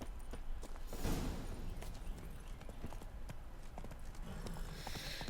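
Horse hooves clip-clop in The Witcher 3 video game, a steady rhythmic clatter of hoofbeats over ambient game sound, fairly close and continuous, with no speech.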